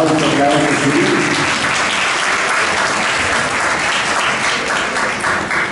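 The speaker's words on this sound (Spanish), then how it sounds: "Un aplauso, claro que sí." Loud, sustained applause from a concert audience at a benefit event, thick continuous clapping with a murmur of voices and some talk mixed in underneath.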